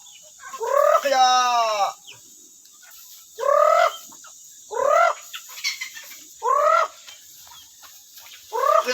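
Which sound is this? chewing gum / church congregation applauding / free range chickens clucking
free range chickens clucking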